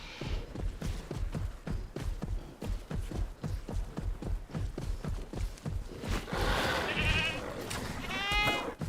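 A goat in the game Jurassic World Evolution 2 bleats against a busy run of rhythmic hoof-like thumps, followed by a louder, harsher bleating burst near the end, with no talking.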